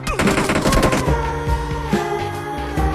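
Rapid automatic gunfire bursts from a BGMI battle royale match, a fast rattling stream of shots for about a second, then scattered single shots and softer game sounds.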